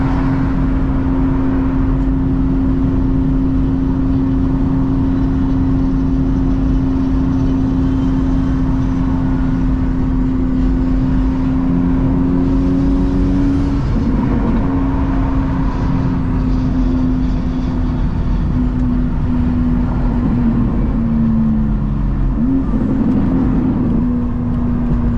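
A BMW M2 GT3 race car with a full catless exhaust is heard from the cabin. A loud, constant engine drone runs throughout, with its pitch shifting slightly partway through and again near the end.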